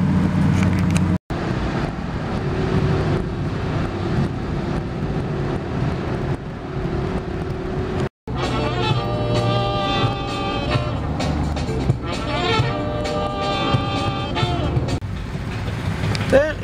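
Rush-hour road traffic on the interstate beltway around St. Louis near I-270 north, heard from inside a car driving home as a steady low rumble of engine and road noise, with a person talking over it throughout.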